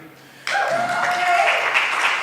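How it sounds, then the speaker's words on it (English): Applause breaks out abruptly in a bar during an open mic night and carries on as a steady, dense wash of clapping, with a faint tonal whistle or cheer riding above it. "let's give a round of applause to everybody before me"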